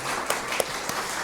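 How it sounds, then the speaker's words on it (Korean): A church congregation at Sunday worship applauding to welcome a new member, a brief burst of steady clapping from many hands filling the room. "우리 한번 박수로 열렬하게 환영해 주시죠."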